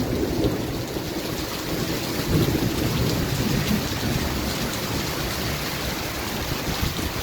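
Heavy rain pours down constantly on young coconut plants, with a low rumble of thunder rolling beneath the downpour.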